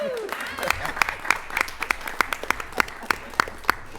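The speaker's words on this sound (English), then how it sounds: "let's give Miss Cherry a round of applause" At a Hampton City Schools board meeting, a room gives a round of applause for a woman, with steady distinct claps from a modest audience and talk over the top.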